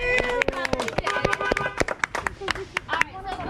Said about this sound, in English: let's give Yamari a nice round of applause